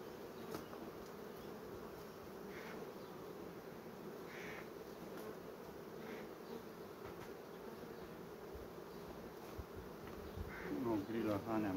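Dense, steady buzzing of many honeybees close by at a hive, a continuous drone with a soft rustle and a brief clatter near the end.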